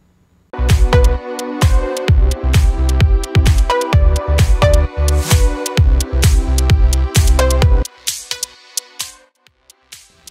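A loud music track plays through a single soloed EQ Eight filter band, giving a thinned, band-limited sound with a steady pulsing beat and thumping low end that drops away near the end.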